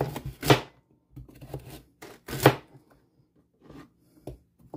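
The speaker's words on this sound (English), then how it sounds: "If the carrot rounds are a little wide, you can cut them in half." A knife chops carrots into rounds on a cutting board for a spicy vegan bean soup, a few sharp, close thuds arriving at uneven intervals with quiet gaps between them.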